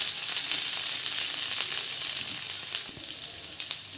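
Onion and green chilies frying in hot mustard oil, a loud steady sizzle with occasional stirring, close and continuous with no talking.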